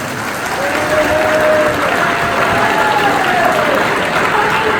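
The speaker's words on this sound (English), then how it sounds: "Give him a round of applause, the man." An audience gives a round of applause at a sheriff's department appreciation lunch at a camp, loud continuous clapping throughout, with a faint voice briefly audible underneath.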